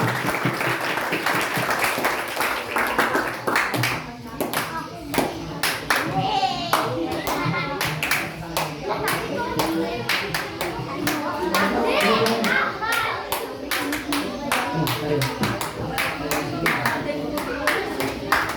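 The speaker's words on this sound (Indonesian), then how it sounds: "Beri tepuk tangan untuk kita semua" Applause and hand clapping from an audience at a school Quran quiz competition (Fahmil Quran) at an Islamic senior high school, sustained and fairly loud throughout, with children's voices mixed in.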